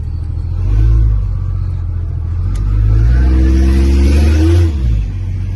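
A Nissan Patrol GU with a TB45 turbo engine revving hard twice, loud and close, each rise in boost ending with turbo flutter as the throttle lifts.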